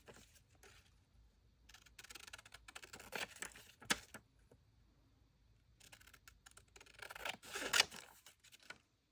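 Paper being cut out with scissors to make altered playing cards from book pages, soft crisp snips and rustling in two close bursts with quiet gaps between, no talking.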